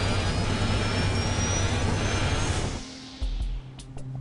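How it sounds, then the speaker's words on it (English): A jet airliner stalls and falls in the 2011 Lokomotiv hockey team air crash. A loud, dense engine roar fills the first three seconds, then drops away to quieter scattered knocks. "the plane goes into a stall"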